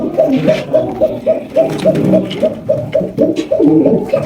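A pair of Giribaz pigeons coos close by, a steady run of short, evenly spaced throaty notes repeating throughout at fair loudness.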